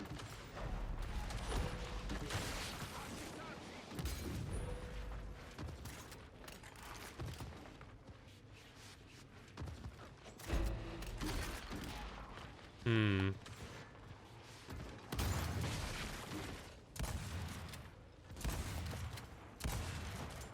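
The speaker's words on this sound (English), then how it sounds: "I want to see where my blind fires are going here because they updated the blind fire." Blind-fire gunshots in the video game Gears 5, heard as bursts of rapid weapon fire and mechanical clatter, fairly quiet under a player's continuous commentary.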